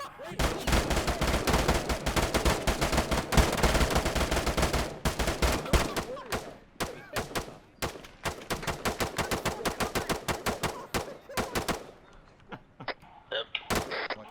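Automatic rifles and machine guns rattle out dense, rapid bursts during an Arma 3 military-simulation firefight in a town, with loud volleys at first that thin into sharper, spaced shots and brief pauses.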